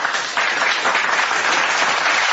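Loud crowd applause at a religious debate event, a dense wash of clapping that swells after a brief dip and holds steady, with muffled voices faintly beneath.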